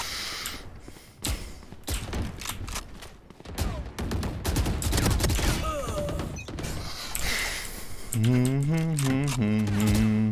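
Vandal rifle gunfire rattles in rapid bursts during a Valorant match, sharp in-game shots mixed with other game effects while players talk over the action.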